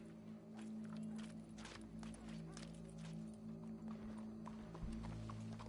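Horse hooves clip-clopping at a walk on a dirt street in an Old West setting, a steady rhythm of hoof strikes close by over a low continuous hum, with a brief louder thump near the end.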